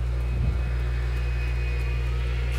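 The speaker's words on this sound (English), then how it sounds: "There's a plane! There's a plane. It's a derpy plane. It's a very derpy plane." A propeller airplane in the video game Left 4 Dead 2 drones steadily overhead, a constant low engine hum heard alone without talk.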